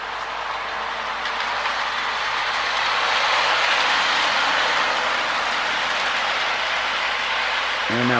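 A Marx E7 toy model train, Arizona Eastern Black Widow, runs around a layout with a steady loud rolling rumble and continuous track noise that holds throughout.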